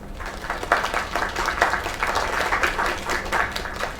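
A crowd at a singing performance in the video game Lake breaks into continuous applause, dense overlapping claps swelling and ebbing at a moderate distance with no speech over them.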